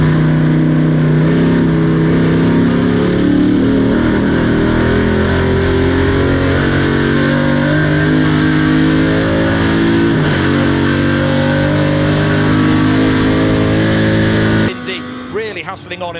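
Triumph Dolomite Sprint saloon racing car, the 1975 British Saloon Car Championship-winning type, accelerating hard at a Goodwood sprint, its engine a loud sustained roar with shifting pitch, a commentator talking over it throughout, and a sudden drop near the end.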